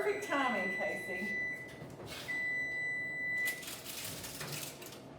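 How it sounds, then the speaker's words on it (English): A kitchen timer for a sheet pan dinner goes off in a steady high-pitched electronic beep, sounding twice in long held tones, moderately loud and near, over background kitchen noise and light voices. "There's the timer"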